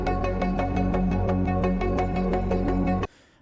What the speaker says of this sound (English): the bulk of the sound in the intro section is coming from this retuned pad